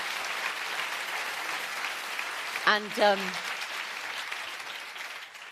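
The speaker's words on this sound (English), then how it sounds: "Give them a round of applause." An audience applauds a debate panel of UN Secretary-General candidates, a steady wash of clapping heard at moderate distance, with a brief spoken word partway through.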